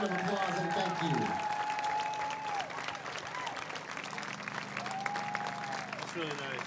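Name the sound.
crowd applause at softball celebration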